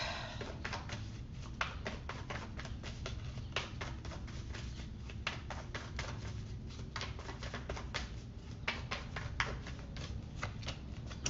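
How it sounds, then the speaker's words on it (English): Oracle cards riffled and shuffled for a tarot reading, a steady stream of quick papery flicks and soft slaps, close and fairly quiet, with no voice over it. "Let's take out an oracle card for you."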